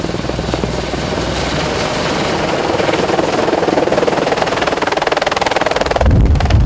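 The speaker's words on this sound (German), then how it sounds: "Swiss Helikopter von Pfaffnau mit Rundflug." A Swiss helicopter out of Pfaffnau flies sightseeing loops over a car meet in Willisau, its rotor chopping loud and close in a steady fast pulse that strengthens toward the end.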